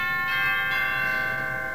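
The chimes stop of a Wurlitzer style 260 theatre organ, Opus 1813, rings out as a sustained bell-like tone that holds and slowly decays, played alone without talk.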